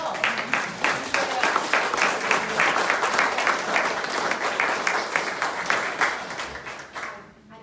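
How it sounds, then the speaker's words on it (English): A Tea Party crowd claps steadily at a political rally, the applause led by distinct rhythmic nearby claps over a broader crowd, fading out near the end. "Excuse me while I applaud"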